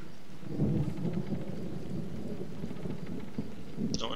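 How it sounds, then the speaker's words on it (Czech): Video game rain hisses steadily in Arma 2, with a low rumble of thunder rolling underneath, continuous and fairly soft, with no voices. "že jsem teďka spustil déšť"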